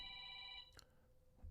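A telephone rings with a steady electronic bell tone, sustained for more than half a second and then cut off, followed by quiet room noise with no talking.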